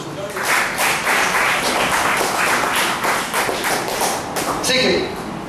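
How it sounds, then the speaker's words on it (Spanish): A church congregation claps, with rapid clapping bursts and thumps rising and falling over several seconds, mixed with voices and shouts. "Denle un aplauso a Jesús"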